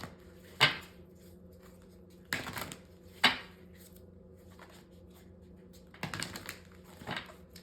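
A few separate crisp bursts of tarot cards being shuffled, each a short riffling clatter, spaced out over several seconds with quiet gaps in a hushed room and no talking.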